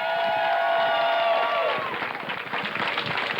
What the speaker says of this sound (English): Nice round of applause for Carl Bean.